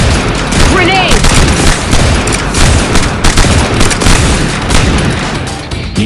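Dense gunfire and explosions in the video game Evolution: Battle for Utopia, loud rapid bursts and booms packed together throughout with a few whooshing effects, with a voice briefly heard under the noise.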